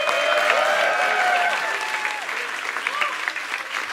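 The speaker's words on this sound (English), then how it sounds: "Let's keep the applause going." An audience at a stand-up comedy show claps and cheers in steady, dense applause, with voices in the room and a few whistles rising over the clapping.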